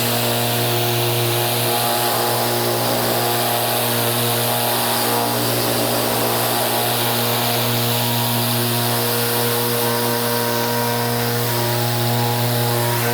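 Steady, continuous whirring drone of a power sander working wood on a bedside cabinet, loud and close, with a constant motor hum and no talk over it.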